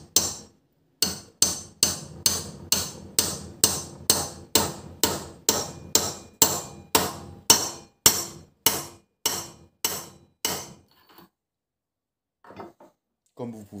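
A hammer taps a bearing onto an MBK 51 70cc moped crankshaft: about sixteen sharp metallic blows in a steady rhythm, close and loud, then a pause and a few faint clinks.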